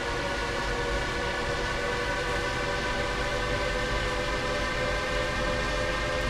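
A train in Train Sim World rolls along the rails at speed, producing a loud, continuous, dense rumble with steady tonal whine layered on top and no break throughout.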